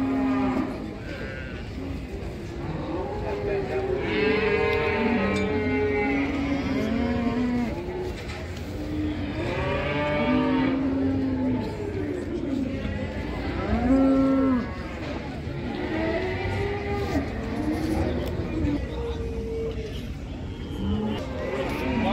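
Young bulls, male calves over a year old, at a livestock bazaar moo repeatedly in loud, overlapping calls, with steady crowd babble and market noise underneath throughout.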